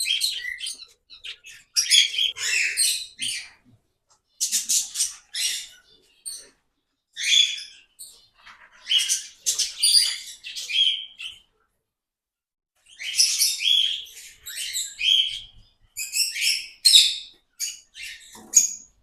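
Parrots in an open aviary chirp and squawk in bright bursts of high, rapid calls, separated by short silent gaps, with no talking.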